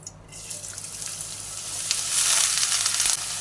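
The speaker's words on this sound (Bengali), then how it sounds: "এই তেলটাকে আমি তুলে রেখেছিলাম এ দিয়ে দিলাম এর মধ্যে এই যে কেটে রাখা লাউগুলো" Chopped bottle gourd dropped into reused hot oil, a bright crackling sizzle that swells and grows louder partway through, close and continuous with no talk.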